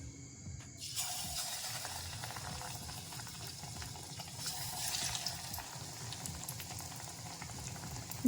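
Potato pieces dropped into hot oil for aloo pakudi, a steady close sizzle and bubbling hiss that starts abruptly and continues evenly with no talking.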